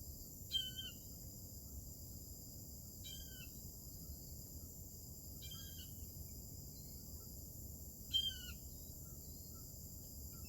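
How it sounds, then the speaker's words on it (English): Outdoors in the morning, a bird gives four short, sharp calls spaced a few seconds apart, faint and distant over a quiet, steady hiss of background insects, with no speech. "It's a nice bird."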